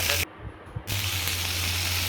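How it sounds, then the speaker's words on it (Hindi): Onion, green chili and tomato frying in a pan give a steady close sizzle with a brief pause early on, then continuous crackling hiss. "अब इसको हल्का सा फ्राई कर लेते हैं।"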